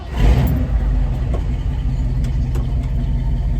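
A restored 1971 Ford Bronco with a three-on-the-tree column shift drives through a neighborhood, its engine a steady, loud low rumble heard from inside the cab with a few faint clicks and no voices.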